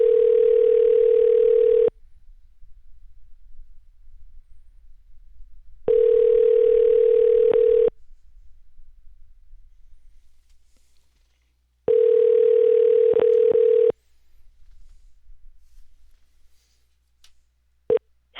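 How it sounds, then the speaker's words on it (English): A telephone call connects through repeated ringback tones, three long steady rings separated by silences, clear and alone, with a few faint clicks near the end. "If you can hear the phone ringing, we're in good shape."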